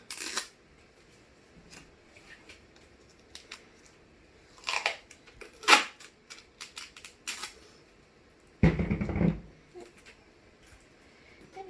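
Tape being torn into four pieces gives a series of short, sharp ripping and crinkling bursts at close range, with quiet gaps between them and one longer rip near the end.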